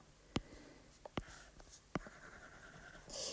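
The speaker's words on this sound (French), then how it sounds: "L'écriture sur Zoom Notes, je trouve, est assez agréable." Stylus drawing on a tablet screen in the ZoomNotes app makes a few soft, sharp taps and short scratchy strokes spaced irregularly, close and quiet, with no speech.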